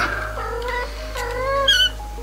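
Several small kittens mew in short, high overlapping cries while playing, close by over a steady low electrical hum on a farm.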